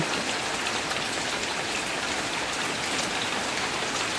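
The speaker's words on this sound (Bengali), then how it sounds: "এদিক দিয়ে প্রচণ্ড বৃষ্টি হচ্ছে" Heavy rain pouring down steadily, a dense, even hiss of drops hitting surfaces, constant and close with no voices.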